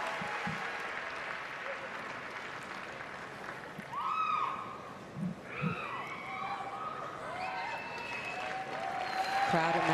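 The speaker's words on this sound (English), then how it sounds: "Crowd at Madison Square Garden, rooting for all the dogs equally." A large crowd at Madison Square Garden applauds and cheers throughout the 2017 Westminster Dog Show Best in Show judging, a sustained roar beneath someone commentator's voice, swelling louder toward the end.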